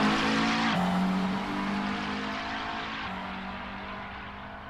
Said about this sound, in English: So he sends the McLaren down to the bottom hairpin.